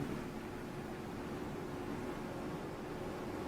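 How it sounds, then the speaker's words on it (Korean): A Hanil HEF-3310R PTC electric fan heater blows warm air in a steady, even whoosh with a faint low hum underneath, continuous and unchanging throughout, with no voices. "오, 바로 따뜻한 바람 나오는데?"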